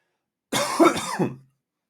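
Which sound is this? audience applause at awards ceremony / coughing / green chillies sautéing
coughing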